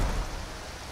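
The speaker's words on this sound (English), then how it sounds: "It is always raining here in the Reach" Steady rain hiss in the Skyrim video game's Reach region, a broad wash of noise with low rumbling underneath, continuous and fairly quiet throughout.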